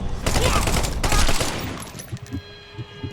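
A Tommy gun fires in The Sinking City as a loud sustained burst of rapid automatic gunfire, cut off midway and followed by scattered thuds and quieter game sounds.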